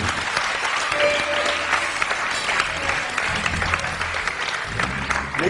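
A studio audience applauds Fevzi, a guest known for imitating sounds with his mouth, with steady, dense clapping and crowd noise lasting throughout, close and loud.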